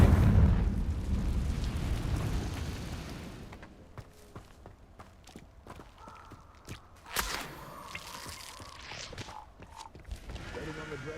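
A Confringo fire spell explodes in Hogwarts Legacy with a loud, rumbling burst that fades over several seconds, followed by scattered sharp cracks and a later smaller blast amid fighting.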